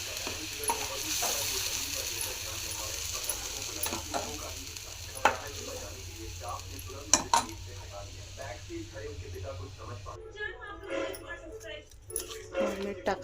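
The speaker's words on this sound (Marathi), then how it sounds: "चटणी टाकायची." Chutney stirred into hot oil with mustard seeds keeps up a continuous sizzle, broken by scraping and clinking from the stirring, while voices murmur faintly in the background.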